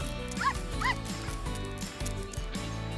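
A dog gives two short, high yips close by near the start, over a constant background of tonal music.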